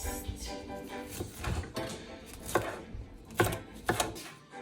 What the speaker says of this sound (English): We're chopping up our bell pepper and we're gonna do the Scotch bonnet next.